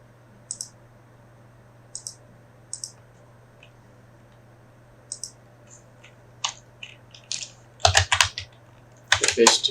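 Typing on a computer keyboard, with sparse single key clicks early on that build into quick, dense bursts of keystrokes near the end, close and crisp over a faint steady hum.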